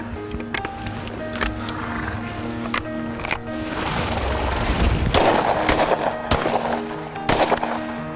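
Shotgun shots during quail wing shooting in South Carolina, several sharp reports at scattered intervals, some near and some farther off, over steady outdoor background noise.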